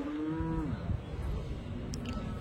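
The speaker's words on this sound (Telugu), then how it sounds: "ఆవు చూడండి, దూడ ఆవు" A Punganur cow at a cattle market gives one drawn-out moo nearby, loud and falling in pitch, followed by general barnyard noise.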